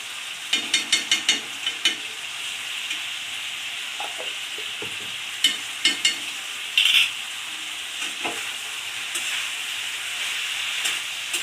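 Jackfruit with spices stir-fried in a pan for a Bengali dish, a steady hiss and sizzle with a few quick scraping stirs early on, close and continuous with no voices.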